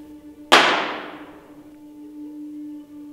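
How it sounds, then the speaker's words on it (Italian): One sharp, loud bang hits suddenly, then rings out in a decaying tail over a faint steady tone, with no voices. "Poi c'è lo sparo."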